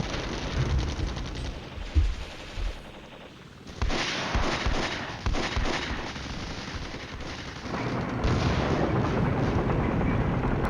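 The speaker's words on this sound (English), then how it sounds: "See, the AI is pretty smart with this bombing, eh?" Artillery bombardment and gunfire from the Cold War game Flashpoint Campaigns, a loud, dense barrage of overlapping blasts and rapid firing that rises and falls and keeps up without pause.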